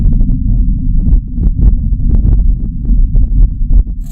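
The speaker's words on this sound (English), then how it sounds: "that's how we know that the wind on the Red Planet sounds like this" Wind on Mars captured by the Perseverance rover microphone, a low, muffled, continuous rumble with faint gusty flutters, heavy and close, with no other sounds or voices.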